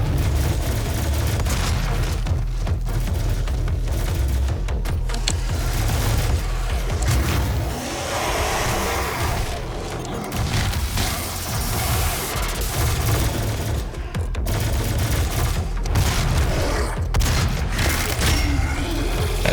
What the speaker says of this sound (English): You heard of our Lord and Savior shotgun?